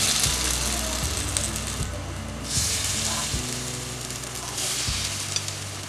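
Sweet potato paniyaram batter sizzles in ghee in a hot paniyaram pan, a steady close frying hiss with faint scraping and clicking movements and no talk.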